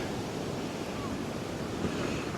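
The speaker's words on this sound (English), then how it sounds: "Waves are getting bigger." Sea surf breaks steadily on a beach at Fraserburgh, Aberdeenshire, a continuous loud wash of waves mixed with wind buffeting the microphone, no voices.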